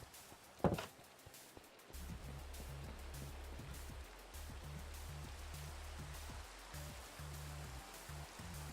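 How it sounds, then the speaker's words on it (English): Rain falls at night in Minecraft, a steady broadband patter with a sharp transient near the start and a low pulsing tone underneath, moderately quiet and with no talking. "Pity it only started raining at night."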